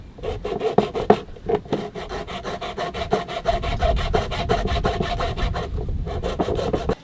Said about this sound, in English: I'm going to trim a little bit of the top of this battery box, which is plastic, and for that I'm going to use a hacksaw